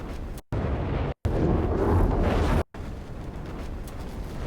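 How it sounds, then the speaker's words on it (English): Layered designed fire effect with a rumbling, roaring body that cuts in and out in abrupt segments, dense and fairly loud, building a fierce burning texture with no talk. "Obviously we're gonna use some fire again"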